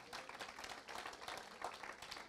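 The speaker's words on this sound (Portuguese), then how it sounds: "Quer aplaudir ao Senhor?" A congregation claps and applauds the Lord during a church worship service, with steady, dense clapping that sounds moderately distant and somewhat faint, mixed with a few scattered voices.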